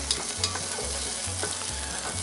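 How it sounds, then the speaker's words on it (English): Garlic frying alone in a hot cast iron pan, a steady close sizzle with a few light stirring clicks and a low pulsing hum beneath. "you only want to cook that garlic by itself there for about 30 seconds"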